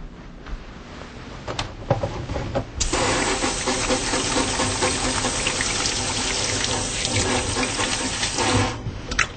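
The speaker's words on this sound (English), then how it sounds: "So I'm going to first wash my hands." Water runs from a sink tap as hands are washed before a respiratory examination, starting with a few faint splashes and then a steady, close stream that continues for several seconds before easing off at the end.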